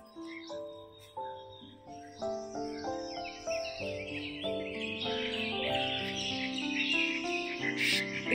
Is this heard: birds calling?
yes